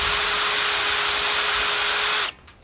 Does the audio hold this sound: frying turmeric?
no